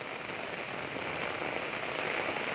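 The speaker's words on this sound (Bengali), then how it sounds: "সকাল 4টা থেকে বৃষ্টি হইতেছে," Heavy rain pours steadily onto a road flooded knee-deep after hours of downpour, a dense, even hiss that stays close and loud throughout, with no voices.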